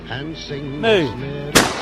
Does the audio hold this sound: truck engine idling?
no